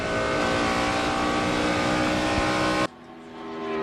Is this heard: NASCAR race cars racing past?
yes